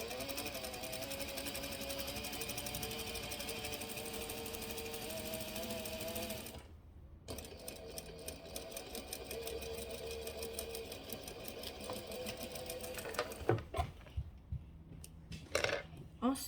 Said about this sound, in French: je viens coudre à 3 mm du bord